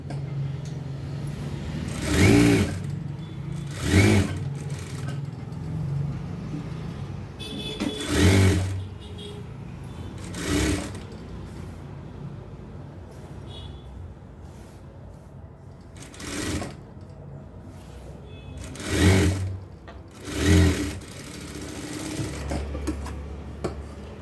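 A sewing machine stitches a dress in about eight short bursts of rapid needle clatter, separated by quiet pauses, close by and with no talk.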